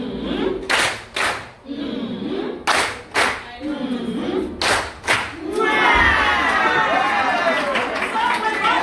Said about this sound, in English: We're giving Dr. Abimbola the love clap.